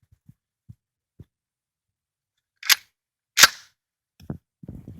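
A shotgun is fired outdoors, two sharp, loud blasts about a second apart after a few faint clicks, followed by brief rustling and handling noises.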